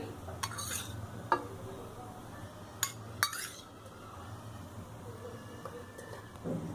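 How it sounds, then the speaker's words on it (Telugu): Metal pan clanking down onto a stove, a few sharp clinks and knocks spread over several seconds against a low steady hum, no voices. "స్టవ్ ఆన్ చేసి ప్యాన్ పెట్టుకోవాలి"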